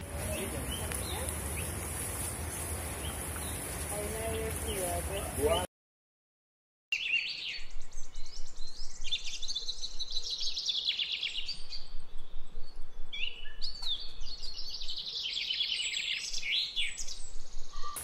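Constant, varied birdsong at the El Cortijo wetland beside a river: many overlapping chirps and warbles, fairly close and continuous, over steady background noise, with a short silent break partway through.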